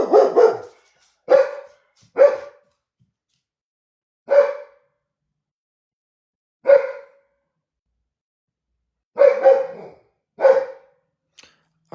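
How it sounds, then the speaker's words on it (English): Dogs bark in sharp, isolated single woofs and short doubles, spaced several seconds apart against near silence, moderately close and without voices. "our dogs are alerting"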